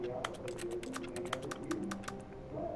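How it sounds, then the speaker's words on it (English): Rapid clicky taps like keyboard keys in quick bursts, made by pressing the X button in the video game The Stanley Parable: Ultra Deluxe, over a low background murmur. "It sounds like I'm pressing a keyboard when I press the"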